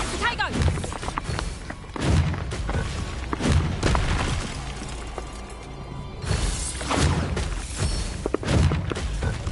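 Bombarda spell explosions in a Harry Potter video game, with several loud booming thuds and shattering bursts amid battle noise and speech.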